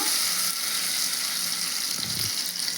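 Loud, steady hissing sizzle of hot tempering oil poured into dal, a dense continuous crackle close up with a faint stir near the end.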